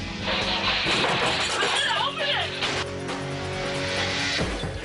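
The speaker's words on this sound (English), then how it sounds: "She'll open the cash drawer, but the second bandit, jacked up and jumpy, smashes it open." Inside a store during an armed robbery, a robber smashes open the cash drawer at the counter, and a loud sustained crashing and clattering fills several seconds amid a noisy commotion.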